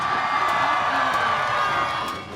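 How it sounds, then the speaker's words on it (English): Crowd cheering and whooping at an outdoor flamethrowing car competition during a coastal cruising event, a steady, loud mass of voices under a broadband roar, fading slightly at the end. "fire, and the crowd goes wild."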